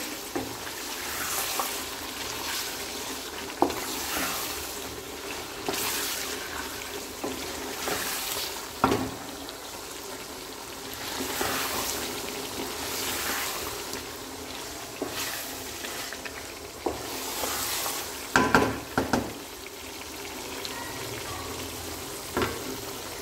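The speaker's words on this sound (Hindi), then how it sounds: "अब हम इसमें थोड़ा सा हरा धनिया भी डालेंगे फिर से हम इनको भून लेंगे" Potatoes with green coriander frying in a pan, a steady sizzle broken by repeated scraping knocks of stirring, with clusters of clanks near the end.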